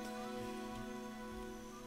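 Steady rain falling at night in the video game Pillars of Eternity 2 Deadfire, a soft even patter that holds through the whole stretch over a constant tonal musical drone, with no voices.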